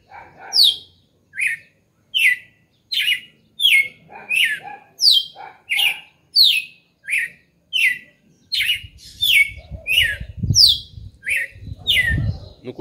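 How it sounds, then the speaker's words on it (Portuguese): A red-cowled cardinal repeats a short, bright whistled phrase about once a second, loud and close, with faint rumbling and handling noise creeping in near the end. "o passarinho começou a cantar"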